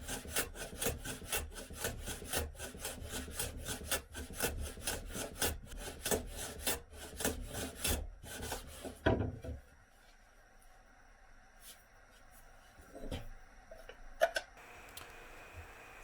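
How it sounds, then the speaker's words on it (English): A hand tool shaves the end grain of a wooden workpiece on a shooting board, a run of quick rhythmic rasping strokes close by, then a quieter gap with a few scattered scrapes and knocks. "Then turn it around and cut the rest of the end grain to a level where the chamfer disappears."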